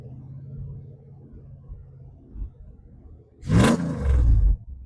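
A Dodge Durango, left sitting for ten years, cranks and starts up: low lumpy rumbling and a short catch, then the engine bursts into a loud roaring rev close by before settling into a heavy idle.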